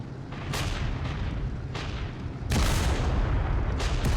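Tank cannon shots from a Tiger I in a Kursk battle game, fired at a Panther tank: three sharp booming blasts at irregular intervals, the last heaviest, over a steady low engine rumble.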